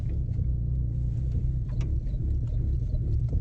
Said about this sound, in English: This motherfucker got a cam.